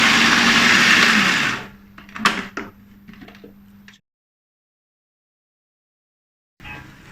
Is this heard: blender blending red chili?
yes